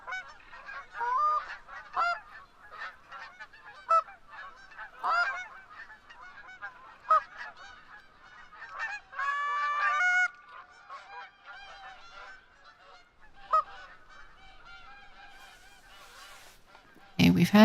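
A flock of geese honking in a goose-hunting game, many overlapping honks and calls in irregular bursts, some near and loud, others fainter, continuing for a long stretch with no speech.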